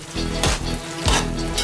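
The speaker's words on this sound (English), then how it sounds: "So now we add the apricots and the raisin." Sizzling plov with apricots and raisins being stirred in a hot pot, a continuous fry hiss broken by two scraping sweeps of the utensil, no talking.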